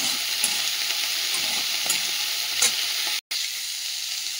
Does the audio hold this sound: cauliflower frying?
yes